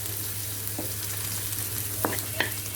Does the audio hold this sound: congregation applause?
no